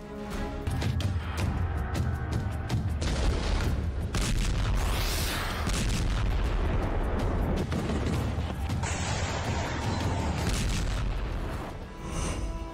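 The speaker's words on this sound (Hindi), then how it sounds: "जोरदार धमाके" Continuous heavy booming and rumbling of wartime explosions in the Russia-Ukraine war, like a barrage of loud blasts overlapping for several seconds without pause.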